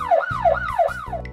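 A police car siren wails in a fast, repeating up-and-down sweep, three close cycles, loud and near, with nothing else heard.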